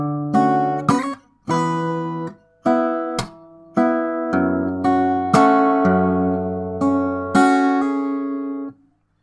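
Acoustic guitar plays bars 74 and 75 of a fingerstyle arrangement of a song from Naruto Shippuden, a series of plucked chords and notes with open bass strings ringing, separated by short gaps, clear and alone.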